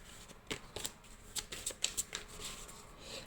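A deck of tarot-style reading cards is cut and handled, giving a series of soft, crisp riffling and slapping bursts, close but fairly quiet, with no voice over them.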